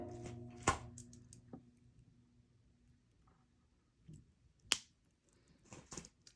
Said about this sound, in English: Then I'm going to cut off the excess